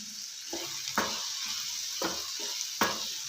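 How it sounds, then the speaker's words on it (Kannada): Tomato and curry leaves stirred in a sizzling frying pan for a cashew masala curry, with steady frying hiss and three or four distinct scraping strokes of the spoon at close range, no voices. "ಈಗ ಕಟ್ ಮಾಡ್ಕೊಂಡಿರೋ ಕರಿಬೇವು ಹಾಕೊಳ್ಳೋಣ ಚೆನ್ನಾಗಿ ಮಿಕ್ಸ್ ಮಾಡ್ಕೊಳ್ಳಿ"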